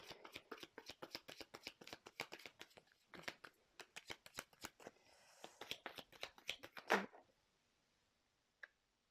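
A tarot deck shuffled by hand in quick, rhythmic riffles and taps, ending in one sharp flick as two cards jump out. Silence follows, broken by a single faint tick near the end.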